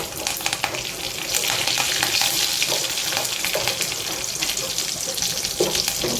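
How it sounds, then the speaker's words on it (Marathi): Mustard seeds, cumin and curry leaves crackle and sizzle loudly in hot oil, a dense continuous spitting hiss with occasional spatula scrapes, close up. "तेल तापलेलं आहे आता याच्यात आपण मोहरी घालत आहे हे जिरं घातलेलं आहे आपण कडीपत्ता घालत आहोत"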